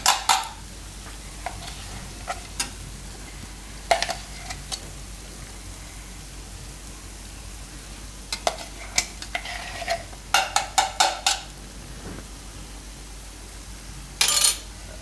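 Ground peas being stirred into masala sizzling in hot oil on a low flame for matar paneer, with scattered scraping and clinking bursts of a spoon against the pan over a quiet background.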